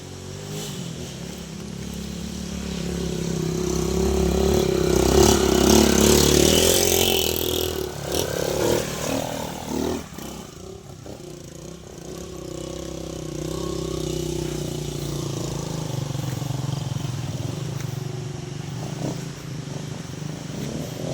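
A motorcycle engine in a rural province setting swells to a loud, steady drone, dips, then settles into a continuous running hum for the rest of the span.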